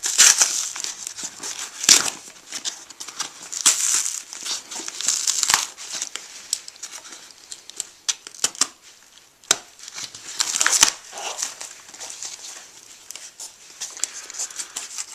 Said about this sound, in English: this box, it's pretty much got tape all over it, so that's why it's proving to be really hard to open up